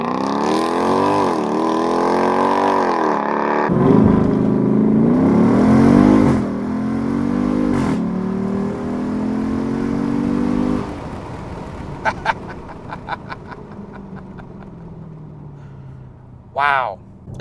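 A Dodge Durango SRT, a large heavy all-wheel-drive SUV, launches hard with launch control: a loud engine roar climbs through rising revs with shifts between gears, then fades as the vehicle pulls away, with voices talking over it.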